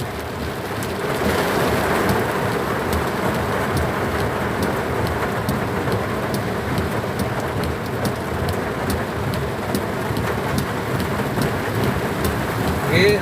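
Heavy rain drums steadily on a moving vehicle, a dense continuous roar from start to finish with thunder-like rumbles underneath and faint road noise.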